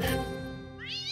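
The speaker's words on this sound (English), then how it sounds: "Here, kitty, kitty!" Cat meowing in a Peter Rabbit cartoon, one clear close meow followed by a second rising, whiny meow, with a soft music bed underneath.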